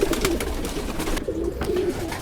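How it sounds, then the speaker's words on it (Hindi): Breeder pigeons in a fancier's loft coo in low, throaty bursts, several close overlapping calls repeating through the short stretch with no talk. "ये सारे के सारे ब्रीडर कबूतर हैं"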